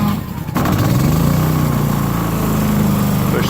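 A Champion 3400 dual fuel inverter generator starting on propane: a brief push-button starter crank, then the engine catching and settling into a steady, loud running hum.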